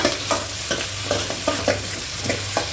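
Coriander and spices sizzle in hot oil in a pan for a fish curry, with a utensil scraping and stirring in steady, repeated strokes close by and no talk.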